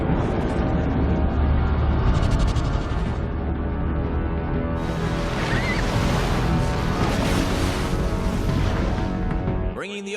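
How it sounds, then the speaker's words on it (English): Dense, continuous roar of crashing ocean surf fills the whole stretch, loud and close, with a brighter rushing swell midway and a rising sweep at the very end. "Bringing the ocean itself down into the stadium."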